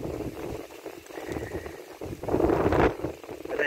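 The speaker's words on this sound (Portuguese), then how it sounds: "Galera, muito vento." Strong gusts buffet the microphone outdoors during a jacu bird hunt, roaring in uneven surges and swelling loudest near the end, with no talk in between.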